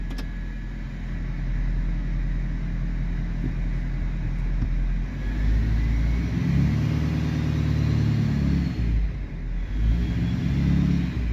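A truck pulls forward in drive, its engine rumbling steadily and rising in a low revving surge midway before settling, close and continuous with no talk.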